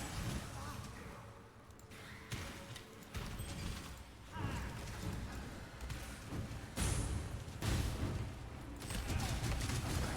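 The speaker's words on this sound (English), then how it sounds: "Things are exploding over there." Explosions from the Path of Exile game burst in repeated loud, dense blasts across the whole stretch, with heavy low thuds and crackling bursts following one another with no pauses.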